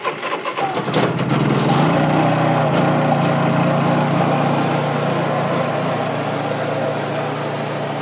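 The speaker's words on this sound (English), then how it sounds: "Got a Honda generator." A Honda generator on a 1997 food truck pulls into life with a few sputtering bursts, then settles into a loud, steady engine drone that runs without a break.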